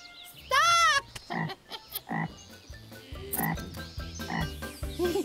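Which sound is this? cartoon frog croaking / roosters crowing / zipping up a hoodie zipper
cartoon frog croaking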